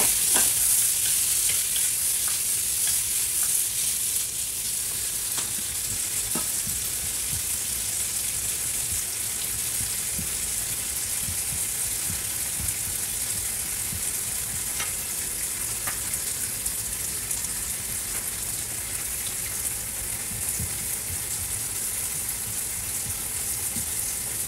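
Meat and chopped tomatoes frying in a pan, a continuous crackling sizzle, fairly close and even, with occasional stirring scrapes and no voices.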